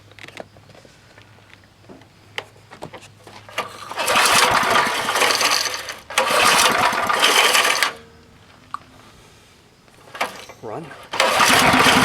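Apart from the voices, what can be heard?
old Craftsman 2400 watt generator engine starting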